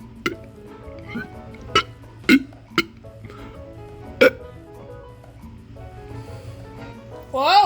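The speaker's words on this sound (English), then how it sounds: "Let's start the burping contest." Burping contest with a string of short, sharp burps and hiccup-like gulps spaced irregularly over several seconds, fairly close and moderately loud, ending in a longer voiced belch.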